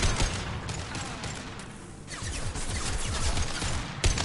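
Rapid gunfire in Mass Effect 2, bursts of sharp crackling shots close up that pause briefly mid-way and then resume dense and loud, ending with a heavier crack.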